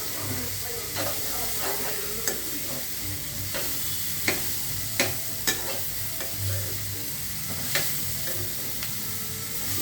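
Steady sizzling and hissing of spices tempering in hot oil, with scattered sharp pops and crackles throughout.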